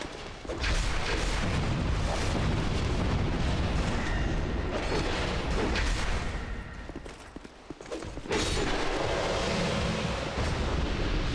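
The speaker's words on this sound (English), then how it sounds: "It's safe from the explosions in here." Explosions rumble continuously in the Dark Souls II: Scholar of the First Sin video game, a dense, loud, booming barrage that dips briefly before surging back.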